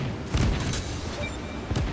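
Heavy battleship guns in World of Warships boom in two low, distant thuds about a second and a half apart, set against a steady naval battle background, with no talk over them.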